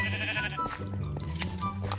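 Sheep bleat twice in a Minecraft game, short nasal cries standing out over a faint steady game-music background, close and fairly loud.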